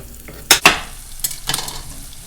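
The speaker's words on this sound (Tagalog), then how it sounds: "halo po tayo ng halo, ha. Hanggang sa maluto yung ating patatas." Chunks of potato with onion frying in a pan for chicken afritada, a low sizzle broken by a few sharp scrapes and clacks of a spoon stirring, up close with no voices.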